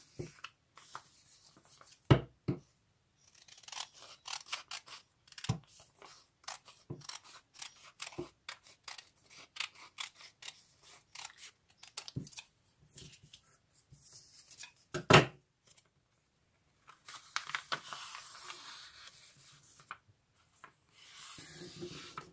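Scissors snip through a paper sewing pattern for a saukele headdress, giving irregular close crisp cuts and rustling paper scrapes with short pauses, and no talking.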